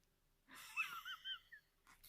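A cat snores: a single quiet, wheezy breath with a whistling rasp, close up and faint, surrounded by near silence.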